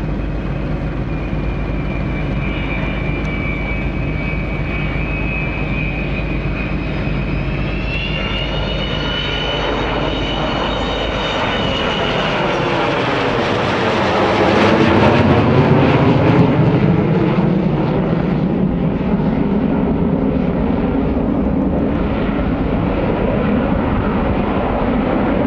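The Avro Vulcan jet bomber 558, a B-2 model, roars loudly through an airshow flying display at Shoreham, its engine drone rising and sweeping in pitch as it passes overhead, with no talk.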